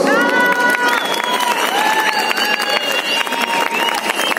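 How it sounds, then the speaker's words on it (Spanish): A crowd cheers and claps for contestant number two at a stage event, a dense, steady wash of applause and excited shouts, with children's voices and some bright tonal sounds running through it. "aplausos por nuestra participante número 2"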